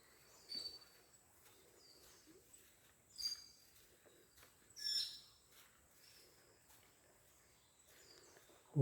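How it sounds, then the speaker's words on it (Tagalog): Faint, sparse bird calls ring out from a quiet outdoor background, a few short high chirps spaced several seconds apart, fairly distant. "Huni po ng ibon yun mga kaibigan."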